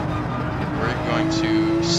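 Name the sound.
race cars driving in the video game Gran Turismo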